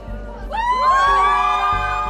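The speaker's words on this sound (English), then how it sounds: "all I heard was screaming and yelling" A crowd of fans at an airport arrival scream, whoop and yell together: loud, shrill voices rising in a burst and sustained over a general crowd roar.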